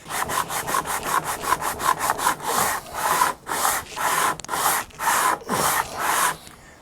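A custom guitar part is hand-sanded on coarse 40-grit sandpaper. Quick, loud, rhythmic rasping strokes give way to longer, steady back-and-forth passes, close up with no talking.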